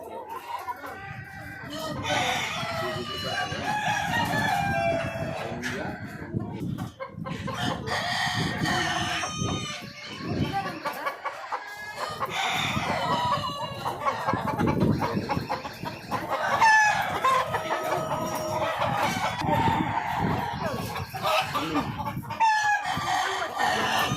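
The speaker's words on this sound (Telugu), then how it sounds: "నాటి కోళ్ళు ఎంత సూపర్గా ఉన్నాయంటే ఎన్ని కోళ్ళు ఉన్నాయి చూడండి" Many country chickens cluck and chatter nearby, and roosters crow loudly several times over the busy, continuous flock noise.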